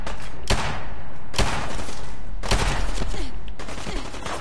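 Bursts of gunfire in the video game Fallout 4, four loud sharp volleys spaced about a second apart, each with a ringing tail, up close and dominating.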